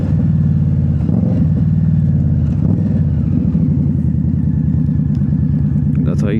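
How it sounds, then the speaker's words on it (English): Manual-transmission car downshifting through the gears while braking to a stop in traffic, a steady low engine rumble with shifting pitch that stays close and loud throughout, no voices. "let me see if I can demonstrate shifting down while braking"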